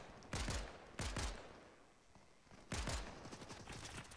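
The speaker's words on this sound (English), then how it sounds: "Check out how this pistol works out long range." Pistol shots fired at long range in Fortnite, three separate sharp reports spaced irregularly with fading tails, fairly quiet overall.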